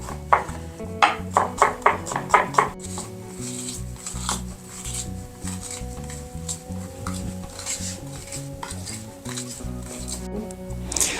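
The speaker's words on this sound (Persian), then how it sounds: "حالا سیرها رو تا اونجا که میتونید ساتوری ریز ریز خورد کنید." Rapid knocks of a cleaver striking a cutting board as garlic is chopped fine, a brisk burst of chops followed by steadier, softer cutting, close and clear.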